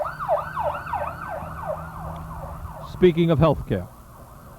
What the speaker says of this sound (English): there goes an ambulance.